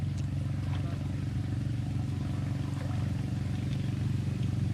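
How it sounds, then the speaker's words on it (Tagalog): A boat engine's steady low drone rumbles continuously on open water during a fishing tournament in Talim, Philippines, with faint splashing and clatter above it. "Tubig lang yung mga naririnig, ingay ng bangka"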